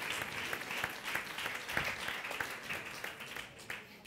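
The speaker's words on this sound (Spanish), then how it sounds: "yo ahora sí que pido un aplauso para el profesorado de la pública" A debate audience applauds public school teachers, a burst of many hands clapping at a moderate distance, steady at first and gradually thinning toward the end.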